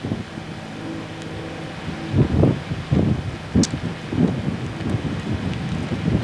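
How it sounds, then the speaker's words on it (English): A strong, cold wind of about 39 degrees sweeps across a house construction site in 1990. It comes as loud, gusty buffeting rumbles against the microphone in irregular bursts, with no talk. "And a very strong wind besides."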